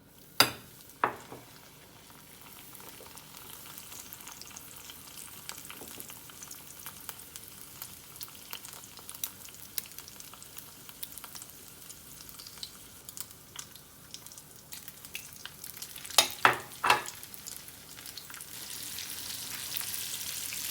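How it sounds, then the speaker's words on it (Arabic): Breaded eggplant slices, dipped in egg, frying in hot oil in a pan, a steady soft crackling sizzle with a few sharper spits and utensil knocks, heard alone without talk. "صافي دابا نحطها هنايا في الزيت يكون سخون"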